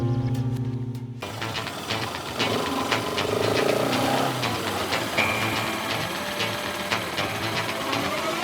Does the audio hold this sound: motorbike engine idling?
yes